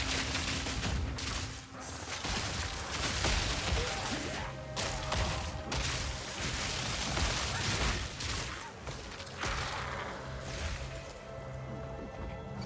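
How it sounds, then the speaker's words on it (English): Dense, chaotic bursts of explosions and impacts from the video game Path of Exile 2 crackle and boom almost without pause, loud and close, with game effects layered throughout. "And there's a lot of explosions around here."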